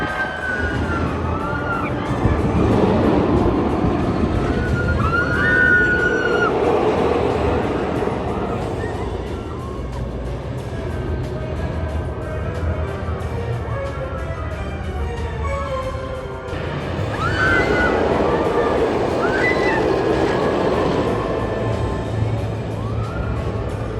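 Wonder Woman roller coaster at Six Flags Magic Mountain, ridden from the back row: loud continuous wind rush and track roar with swelling mechanical rumble and distant riders' screams, close and sustained throughout.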